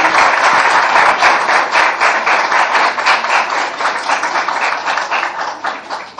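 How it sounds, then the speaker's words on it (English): Audience at a course closing ceremony in Quetta gives loud, sustained, dense applause that tapers slightly toward the end. "Huge round of clap. Double clapping for her."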